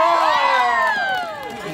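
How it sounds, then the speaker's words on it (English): A crowd cheers and hollers for the winning armadillo at an armadillo race at Armadillo Palace in Houston, Texas. Rising and falling whoops and shouts stay close and lively, then ease slightly toward the end. "Give him a round of applause."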